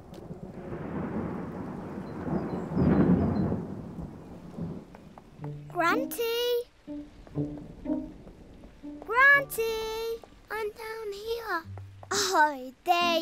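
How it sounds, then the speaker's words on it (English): Cartoon summer thunderstorm with a low rumbling roll of thunder and rain swelling in the first few seconds, then fading as young animated characters talk over it. "It's only a summer thunderstorm."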